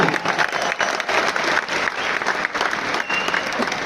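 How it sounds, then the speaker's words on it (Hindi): A live comedy-show audience at a business event in New Delhi bursts into loud, sustained applause, a dense crowd of clapping hands running continuously and fairly evenly throughout. "जोरदार तालियां अपने लिए।"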